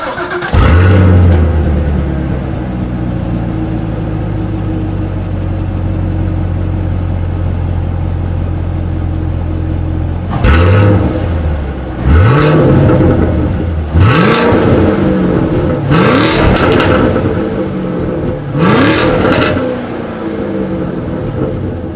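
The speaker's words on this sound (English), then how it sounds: "As always, here is that exhaust clip." A 2020 Chevrolet Camaro SS V8 with dual exhaust starts up loud, settles into a steady burbling idle, then gives several sharp throttle blips that rise and fall in quick succession.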